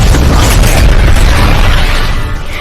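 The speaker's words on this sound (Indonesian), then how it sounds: "akhirnya terjadi sebuah ledakan dahsyat" A huge, loud animated explosion booms with a deep rumbling roar that sustains for a couple of seconds before starting to fade.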